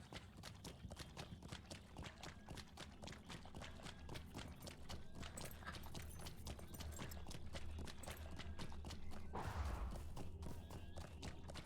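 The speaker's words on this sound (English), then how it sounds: "ride a horse through a boggy marsh" A horse's hooves clip-clop steadily through a boggy marsh in the online game LOTRO, a quick regular gait heard close and fairly quiet, with a brief louder thud near the end.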